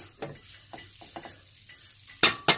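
Food crackles and sizzles quietly in a pan, with a few soft stirring scrapes and two sharper bursts near the end.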